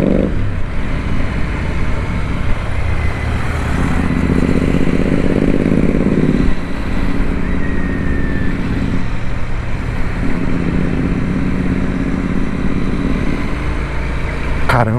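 A Royal Enfield Interceptor 650 cruising at low revs, the engine droning continuously up close with a few swells in throttle and steady wind rush, with no talking.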